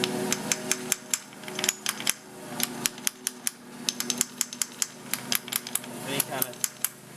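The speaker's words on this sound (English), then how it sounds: "I'm tapping on the inside washer thing, not the actual part" Sharp metallic taps ring out on the inner concave washer of a VW CV joint during a boot replacement, a quick uneven series of close, bright clicks and knocks.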